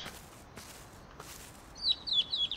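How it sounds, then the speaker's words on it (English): Birdsong from the building-renovation video game Demolish & Build 3: after a quiet, hissy start, a short run of bright, high chirps and tweets comes in near the end, fairly close and clear. "those uh, birds are a little bit loud"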